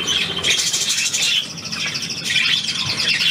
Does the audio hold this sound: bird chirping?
yes